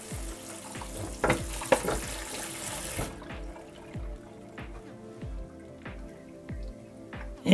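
Soaked maize grains being rinsed under running water: a steady hiss of flowing water that stops after about three seconds, followed by repeated dripping and light pattering of water over the grains.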